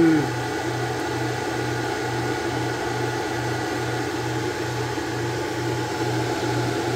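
A 12V to 220V power inverter working under heavy load hums with a steady buzzing drone and regular pulsing beats, likely from its cooling fan, continuous and fairly close over a constant hiss.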